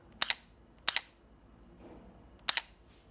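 Three crisp double-click shutter actuations from a Sony A7C II mirrorless camera, each a sharp close mechanical snap spaced apart in a quiet room.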